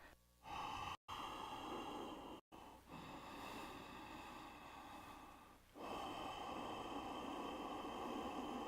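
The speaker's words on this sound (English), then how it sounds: "you can hear me regulating the breath with some sound, mouth closed, in the nose, out the nose" Steady, breathy airflow through the nose, long sustained hiss-like inhales and exhales with brief silent gaps, close and fairly loud, no talking.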